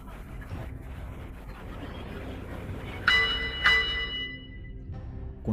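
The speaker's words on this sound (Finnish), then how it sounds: "Kun viimeinen kello soi" The final bell rings twice at a boxing match in which George Foreman fought five opponents in one night, bright metallic strikes rising over a steady crowd murmur.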